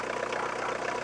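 A car engine idles steadily in winter just after being started, a constant mid-range rumble with no talk over it.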